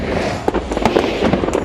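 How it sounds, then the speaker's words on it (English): A Friday night fireworks show in Miami sends out loud, close crackling pops and bangs in quick irregular bursts over a constant rumbling wash, with no talking. "Just as the fireworks show wrapped up in Miami Friday night"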